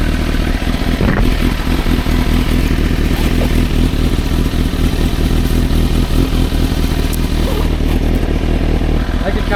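A rare motorcycle's engine runs steadily and loudly, a close, continuous rumble with some clatter, throughout almost ten seconds, with no break or change in level.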